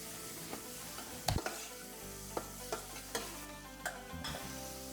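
Carrots glazed in harissa paste cook in a pan, with quiet sizzling under occasional spoon scrapes and a few sharp taps against the pan.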